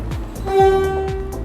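A train horn sounds at a railway station platform, a loud sustained toot over the low rumble of a passing train, with rail car clatter continuing throughout.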